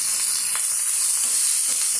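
Sliced onion and green chilli sizzle steadily in a hot pan with oil, a close, even frying hiss broken by a few small pops and stirring scrapes.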